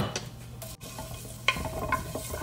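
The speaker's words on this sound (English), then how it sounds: "Give it a stir." Garlic and cayenne pepper sizzle in a generous drizzle of olive oil for sautéed beet greens, with a soft steady fry, light stirring scrapes and a couple of sharp utensil clinks near the pan.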